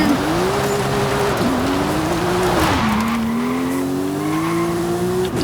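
The engine of the Scooby Doo Mystery Machine van in Forza Horizon 5 drones loudly and continuously, its pitch climbing through the gears with brief dips at shifts and some tire squeal, while a faint voice talks underneath.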